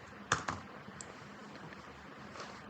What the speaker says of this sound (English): I finish typing the new way instead of the old way